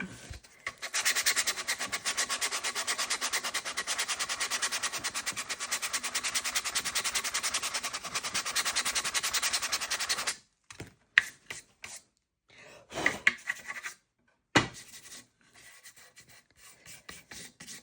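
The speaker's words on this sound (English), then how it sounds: "let me sand it again" Hand sanding the worn finish off an old wooden sewing table drawer, a close, steady scratching rasp for about ten seconds, followed by scattered short rubs and knocks with pauses between.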